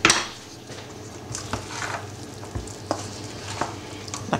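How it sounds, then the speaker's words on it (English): Wild rice and its other ingredients stirred together in a pan or bowl, a low steady scrape with soft utensil knocks and brief clatters standing out now and then, heard close with no talking. "the last thing we're going to do now is mix up all of the ingredients together"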